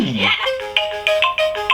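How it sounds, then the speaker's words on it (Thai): A cheap 10-baht electronic toy phone plays a bright, beeping ringtone melody of repeated short tones, close and fairly loud, with no talking. "โทรศัพท์เข้าอะไรอย่างงี้"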